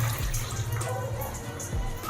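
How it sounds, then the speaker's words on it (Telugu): Water splashes steadily into a thick pot while kanji is being prepared, a continuous close pouring rush with small gurgles and no pauses. "ఆ కంజికి సరిపడా వాటర్ని వేసుకోవాలి"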